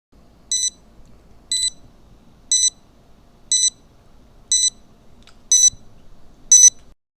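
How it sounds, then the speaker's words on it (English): A tracker emits a high electronic beep pattern, seven short bursts spaced about a second apart, clear and even against near silence. "remotely play a beeping sound"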